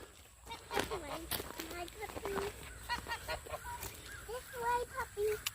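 Farm birds, geese, chickens and ducks, honk and cluck nearby in a busy, overlapping chorus while a German Shepherd puppy is walked among them and a person talks.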